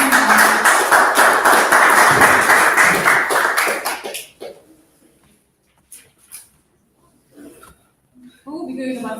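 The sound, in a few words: audience applause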